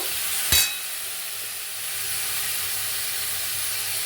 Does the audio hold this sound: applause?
no